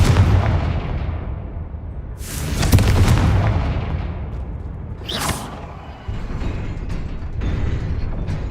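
Confringo explosive spell blasts in Hogwarts Legacy, booming bursts that hit at intervals over rumbling combat noise, loud and close, with sharp crackling flares between them.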